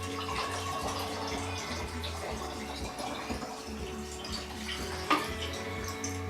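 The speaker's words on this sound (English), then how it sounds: "I'm going to pour the chemicals" Used black-and-white film stop bath being poured back into its storage container after developing 127 film, a steady liquid trickle and splash running throughout against a low hum, with one brief clink near the end.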